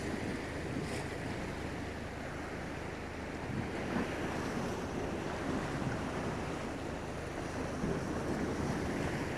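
Atlantic ocean waves wash and roar against the rural Norwegian coast, mixed with gusting wind buffeting the microphone, a dense continuous roar with no voices.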